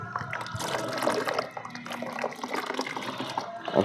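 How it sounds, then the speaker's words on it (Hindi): Water is poured onto a compressed coco peat block, a soft, continuous trickle and splash with small drips, fairly quiet and close, with no talking. "तो इस तरह से पानी हमने पूरा डाल दिया है"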